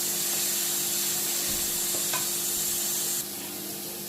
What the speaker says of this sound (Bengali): টমেটোটা একটু নাড় করা হয়ে যাক পরিমাণ মতো।